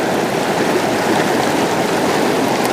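The Chatakh river flows in a steady, loud rush of water close by, a constant broadband roar with no pauses and no voices.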